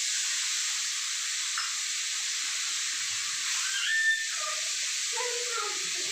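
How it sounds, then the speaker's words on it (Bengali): Turmeric and chili tempering sizzling in fish oil in a pan, a steady close broadband hiss that runs throughout, with small crackling pops rising briefly near the middle. "একটু ভাজা হয়ে যাক ফোড়নটা"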